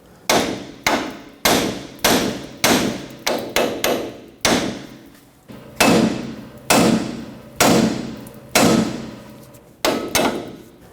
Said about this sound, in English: Tap the side of the knuckle with a hammer